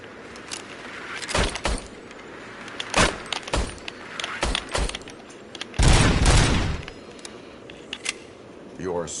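Police service pistol fire at an indoor shooting range in a Robocop game, several separate sharp shots spaced irregularly with one longer burst, close and punchy, mixed with clicks and handling noises.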